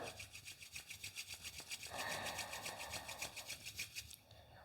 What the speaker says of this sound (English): rub your palms together and faster